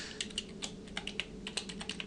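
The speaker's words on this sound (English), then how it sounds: "we have to start typing in more information into the cell to have it wrap" Typing on a computer keyboard into a spreadsheet cell gives a steady patter of close, light keystrokes with uneven spacing, some taps bunched together, heard alone over a low hum.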